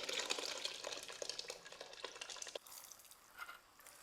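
Boiled chickpeas and their cooking water are stirred and mixed in a pan for a party-sized chole masala, giving close wet stirring and soft sizzling that fades toward the end, with no talk.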